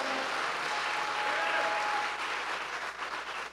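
A church congregation claps together in a big round of applause, dense and sustained, loud at first and thinning slightly toward the end.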